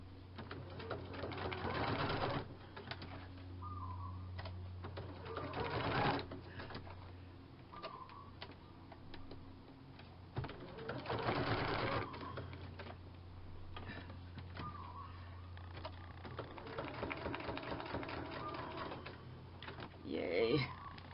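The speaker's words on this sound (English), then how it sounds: "I'll go back to the sewing machine and I will stitch the stamp on." Sewing machine stitching a paper stamp onto a collaged book page, running in several separate rapid bursts with pauses between, close and clear.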